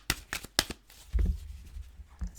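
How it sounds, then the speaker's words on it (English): Tarot cards being shuffled close to the microphone, a few crisp riffling bursts followed by softer thumps and handling noise, with no talking. "Don't shuffle in the microphone."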